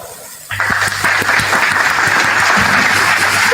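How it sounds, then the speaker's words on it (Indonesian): Sudden burst of audience applause during a religious talk, starting abruptly and holding as a loud, sustained crowd clapping with no speech over it. "Tepuk tangan dong"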